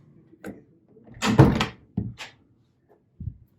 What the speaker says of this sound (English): The bathroom door has a hard time wanting to close.